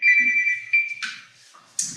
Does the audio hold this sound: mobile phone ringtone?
yes